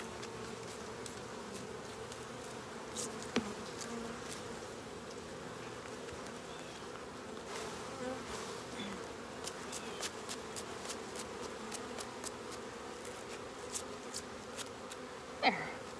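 A dense hum of honeybees buzzes inside an open hive, steady and close, broken by occasional sharp ticks and scrapes as a bee brush sweeps the frames.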